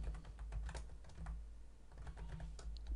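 Rapid keystrokes tap on a computer keyboard while entering text into an Excel spreadsheet, a close, quiet stream of clicks with short pauses and low background hum, and no talking.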